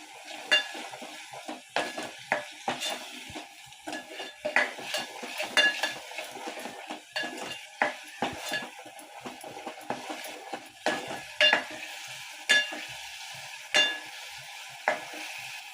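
Tomato paste fries with onions in a pan over a low gas flame: a soft, continuous sizzle with frequent light clicks and scrapes of a spoon stirring, heard close up with no voices.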